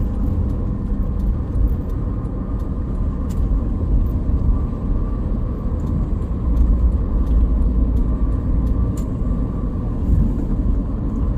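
A car cruises along the Cipali toll road in Indonesia, giving a steady, continuous low road-and-engine rumble at an even level throughout, with no speech.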